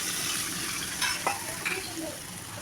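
Chicken curry in a pan sizzles steadily after a little water is added, a close hiss with brief stirring scrapes from a spoon against the pot, no talk.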